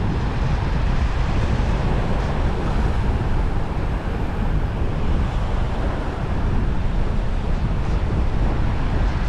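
Surf washes in steadily at Mexico Beach, an unbroken broadband roar of waves mixed with wind buffeting the microphone, with no voices.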